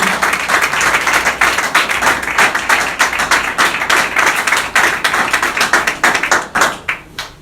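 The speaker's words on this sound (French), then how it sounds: "Acclamez très fort pour Jésus." A church congregation claps and applauds loudly and continuously for Jesus during a worship service, a dense, steady patter of many hands close by that thins out at the end.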